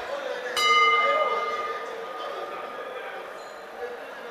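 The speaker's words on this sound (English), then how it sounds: "There goes the bell." A boxing ring bell at a fight night in Bukom Boxing Arena strikes once to close a round, a bright clang that rings and fades slowly beneath crowd noise and a commentator's voice.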